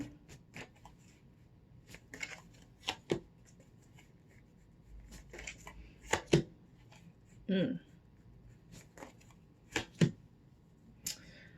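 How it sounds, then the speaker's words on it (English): Tarot cards being shuffled and pulled, heard as close, intermittent riffles, flicks and slaps of cards on a table, with a voice speaking between them. "Let me pull some cards to clarify."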